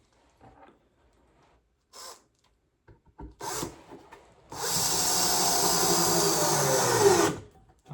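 Wooden birdhouse parts rubbed together, starting with a few short faint scrapes and then a loud, steady abrasive rasp lasting about three seconds before stopping.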